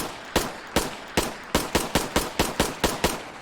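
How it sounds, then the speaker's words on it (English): HK USP pistol in modded Fallout 4 firing about a dozen crisp, sharp shots at a steady, fairly quick pace, each one loud and close with a short tail. "This is the Hk Usp. It's a pistol, obviously, a handgun"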